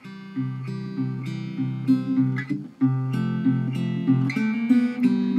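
Steady strummed chords of a song on acoustic guitar ring out in an even rhythm, full and close, with sustained notes blending between strums and no voices.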